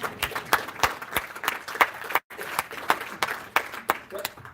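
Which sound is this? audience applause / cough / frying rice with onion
audience applause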